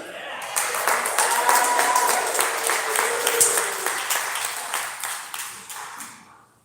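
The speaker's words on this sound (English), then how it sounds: "There should not be any hands not clapping, any mouths not cheering." A crowd at a kids' armwrestling tournament applauds and cheers as two young competitors are welcomed to the table, a sustained wash of clapping that peaks early, then gradually fades out.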